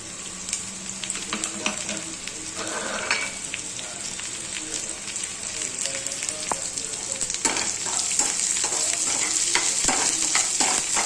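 Chopped onion sizzles steadily in hot oil in a pan, with occasional scrapes and clicks from stirring, growing slightly louder and denser toward the end, no talking.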